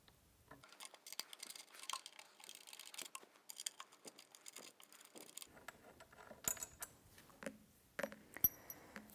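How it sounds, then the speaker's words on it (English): Metallic clicks and scrapes of an Allen wrench loosening bolts on the handle of a combo chair, with irregular light taps and ratchety ticks, close and fairly quiet, with no speech. "I'm using an Allen wrench, and I'm going to go lefty-loosey to loosen the bolts."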